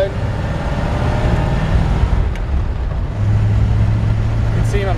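A 1951 Ford F1 pickup truck driving down the road, its engine a steady loud low rumble inside the cab, rising slightly in the last seconds with some road noise underneath.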